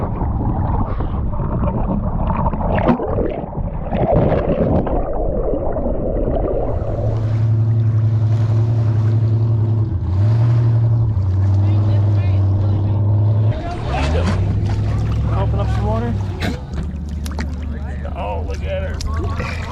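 A motorboat engine drones steadily on the water, loud and close, with people talking over it.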